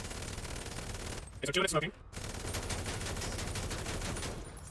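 AK rifle fire in a driving game rattles as dense, continuous automatic shooting at a car, briefly broken by a short burst of louder impacts, while someone talks over part of it.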